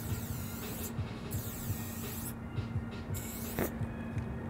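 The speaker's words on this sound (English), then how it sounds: "Wonderful spray, beautiful cap." Acme spray paint hissing through a New York fat cap while painting graffiti, a steady airy spray in several bursts of about a second each, close and fairly quiet over a constant low hum.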